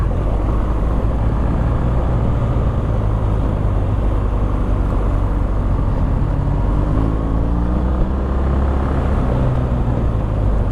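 A BMW R1200 GSA motorcycle accelerates hard to overtake, its engine droning loud and constant beneath strong wind noise, with the pitch rising toward the end.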